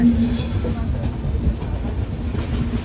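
Duronto express train rolling along the tracks through a curve near Renigunta, a steady loud rumble with faint wheel clatter and a sustained low hum throughout.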